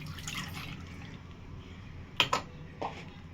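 Washed crab being strained in water, with a few brief, faint drips and splashes of liquid against a quiet background.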